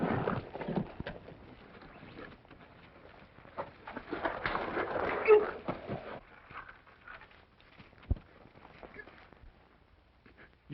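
Hooves of a horse clip-clop on hard ground in an old western film scene, uneven steps rising and fading over several seconds, with a few sharp knocks and light background noise.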